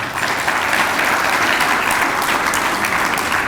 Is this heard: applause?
yes